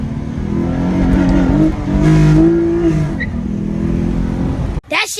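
An Acura TL Type-S J-Series engine, running low on oil, revs loudly up close. The rising and falling engine tones come from inside the car, and the sound cuts off abruptly near the end.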